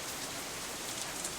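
Steady rain falling as ambient background in the Katawa Shoujo visual novel, a soft, even hiss of drops with no voices or other sounds over it.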